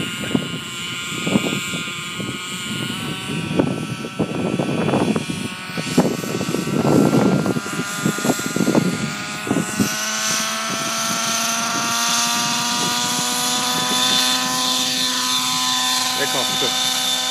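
An aircraft taking off: a loud, droning engine roar swells and rises steadily in pitch, with a person talking nearby during the first half.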